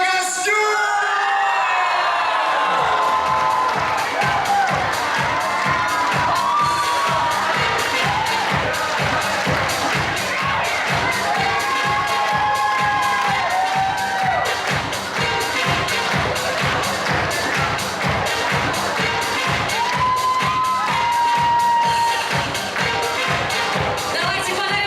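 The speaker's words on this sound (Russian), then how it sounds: "Давайте подарим еще больше аплодисментов!" An awards ceremony audience cheers, whoops and yells continuously and loudly, with rhythmic clapping running underneath and no clear speech on top.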